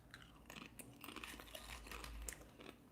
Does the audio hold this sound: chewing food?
yes